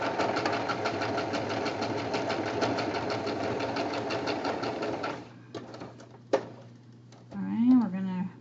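A sewing machine stitches recycled fabric for a mini leaf pillow, running in a steady rapid whir for about five seconds, then stopping; a few soft handling clicks follow and a voice speaks briefly at the end.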